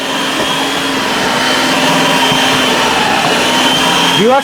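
A 4-in-1 food processor chops food with a loud, steady motor whir that runs through the whole stretch, then pitches up in a rising whine at the very end.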